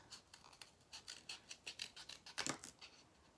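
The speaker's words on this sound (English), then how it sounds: "I'm gonna take these ones and cut like this." Scissors snip through a cardboard egg box for a recycled craft toy, a faint, close series of quick crisp cuts in an uneven rhythm, with one sharper, louder snip near the end.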